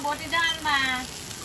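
Prawns wrapped in gourd leaves fry in a pan with just a little oil, making a brief, close sizzle that comes in a few soft bursts.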